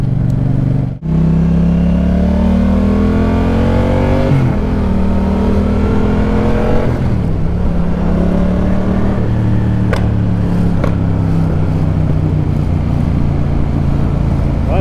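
Yamaha MT-07 motorcycle engine revving and accelerating at partial throttle, a loud steady drone rising and falling in pitch through several pulls, heard close with no talk.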